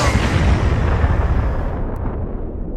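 A loud, sustained rumble of bombing explosions in the strategy game Decolonators, a dense continuous roar that gradually fades toward the end, with no talking.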